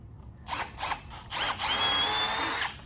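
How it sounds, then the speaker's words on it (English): A pilot drill bores at an angle into wood framing for a deep litter chicken coop, with three short bursts of whirring followed by one longer sustained run, loud and close. "Then I'm going to use my pilot drill and I'm just going to go on an angle."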